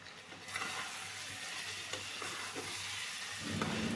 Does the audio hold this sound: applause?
no